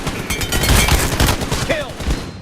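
Rapid gunfire from a shooting video game, a dense run of loud, close shots filling the whole stretch, with faint voices mixed in underneath.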